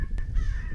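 A single crow caws loudly and close during a crow hunt in Kansas, a short harsh call standing alone over low wind rumble.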